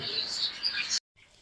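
Wild birds in an aviary chirp and tweet in a busy, bright chatter for about a second before an abrupt cut, then return faintly.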